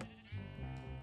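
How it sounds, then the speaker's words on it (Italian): Two sheep in the Minecraft video game bleat inside a cave, a loud, close, wavering bleat filling the short moment with no talk over it. "E mi stanno guardando due pecore, una dietro l'altra."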